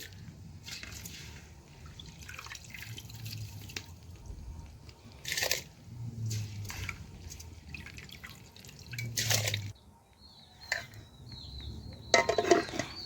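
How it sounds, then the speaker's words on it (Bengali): Rice being washed in water in a pot in a home kitchen, with soft dripping, sloshing and rubbing of grains, a few brighter splashes and pot knocks, close and moderate, no talk. "এ দেখুন চালগুলো আমি ধুয়ে দিয়ে দিচ্ছি।"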